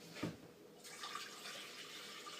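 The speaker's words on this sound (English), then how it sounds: "I'm going to take the remaining amount of our water" Water is poured into a mead fermenter, a steady close splashing and trickling stream of liquid that begins after a brief knock and continues evenly, with no talk over it.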